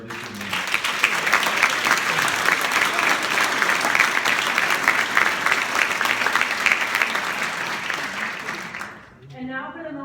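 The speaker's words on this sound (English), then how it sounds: "Please join us in a round of applause for all of our district members." An audience at a citywide youth awards ceremony gives a sustained, dense round of applause for students, loud and steady for about nine seconds before fading out near the end.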